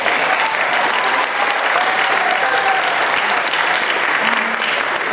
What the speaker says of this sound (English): I would bet a lot of our members are in the room clapping